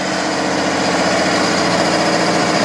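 A diesel engine in runaway, racing at a steady, loud, high-pitched idle while blowing coolant all over the ground, droning continuously with no talk.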